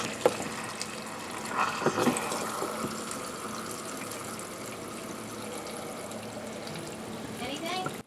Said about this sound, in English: here's the test with the hose to see if the leaking has now been fixed